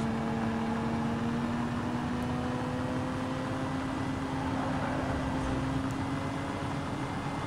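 A glitched car engine in Need for Speed: Most Wanted gives off a steady, low bubbling drone with a faint whine that holds level throughout, with no talking.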